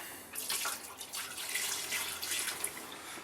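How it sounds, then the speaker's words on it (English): Antifreeze poured from a jug down a sink drain in a Taylor Coach motorhome during winterizing, a steady splashing gush of liquid lasting a few seconds with no talk. "I have a jug of antifreeze here that I just put down the drains"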